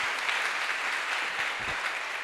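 Church congregation applauding during a service, a steady dense wash of clapping from many hands held at an even level throughout, with a few faint low thumps beneath.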